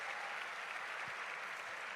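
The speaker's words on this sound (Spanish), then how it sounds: "le pedimos un gran aplauso" Audience applause at a live event in Mexico, a steady wash of clapping at even strength through the whole stretch, moderately distant, with no voices over it.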